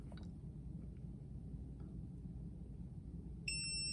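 A short, high electronic beep sounds near the end over a quiet, hissy background.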